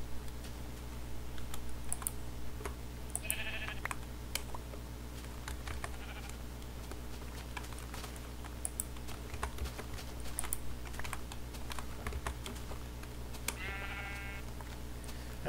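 Sheep in the video game Minecraft bleat twice, short and clear, over constant computer keyboard typing and mouse clicks with a low steady hum beneath.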